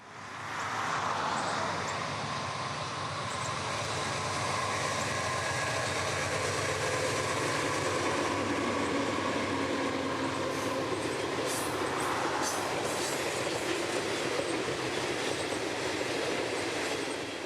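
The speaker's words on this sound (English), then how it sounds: "Two rebuilt Union Pacific AC-44s would lead this train south today, with 95 loaded ethanol tanks behind." A long freight train of 95 loaded ethanol tank cars, led by two rebuilt Union Pacific AC44 locomotives, rumbles steadily past at close range, wheels clacking over rail joints with occasional metallic squeals, sustained loud throughout.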